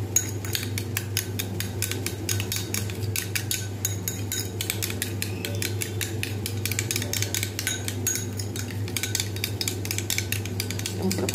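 Egg being beaten with turmeric and salt in a bowl, a steady run of rapid clinking taps of utensil against the dish, close and continuous, over a low background hum.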